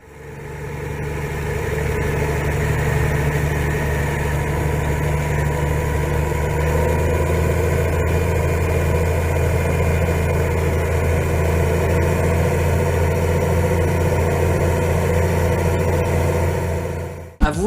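The 15-litre turbocharged engine of a Fiat Versatile 44-28 articulated tractor idles in a loud, steady low drone that holds evenly throughout.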